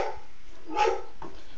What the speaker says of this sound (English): Don't bark while I'm recording.